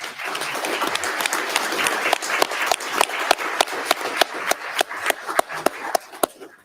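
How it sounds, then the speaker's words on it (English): A roomful of people at a city council meeting claps in sustained applause, with close, distinct individual claps standing out, gradually thinning and fading at the end. "If you'd please join them in a round of applause"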